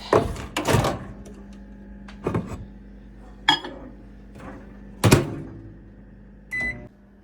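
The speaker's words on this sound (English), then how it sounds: "Just pop it in the microwave." A microwave door clunks open, something is set inside with a light clink, the door thumps shut, and a few beeps sound; close and clear, no talking.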